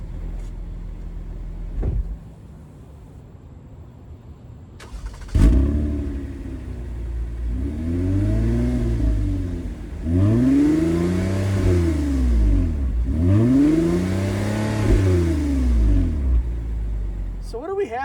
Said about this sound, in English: This is what that throaty dual exhaust sounds like when you're just idling.